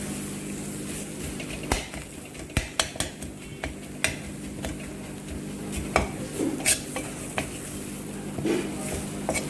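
A metal ladle scrapes and knocks against a pan while stirring and breaking up homestyle Tamil chicken sukka into small pieces, producing irregular close clinks and taps over a faint sizzle.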